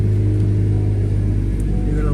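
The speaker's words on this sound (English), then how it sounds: "You're gonna go ahead and start your car." A 2019 Honda Accord engine runs with a steady, loud low rumble and idle hum throughout, close by and continuous, after a coolant flush.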